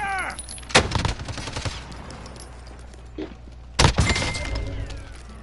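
Gunfire in Warzone, a couple of sharp, loud, close shots separated by a few seconds, with a quieter crack in between and low background rumble.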